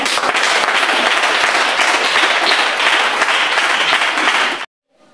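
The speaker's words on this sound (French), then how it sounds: "Acclamons pour les mamans." A crowd at a church worship gathering breaks into loud, dense applause that holds steady for several seconds, then stops abruptly.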